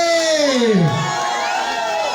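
A concert crowd in Tanzania roaring and cheering, a loud, dense wall of shouts and whoops with a voice swooping downward on top, close and continuous.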